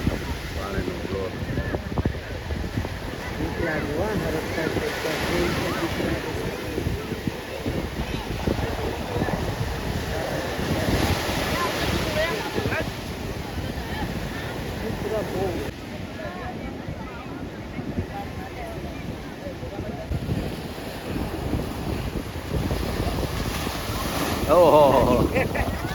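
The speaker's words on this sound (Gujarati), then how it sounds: "જો મોજારી મસ્તી હાલે." Sea waves washing in at a creek in Bhavnagar make a steady, rolling surf roar across the whole stretch, with gusts of wind buffeting the microphone.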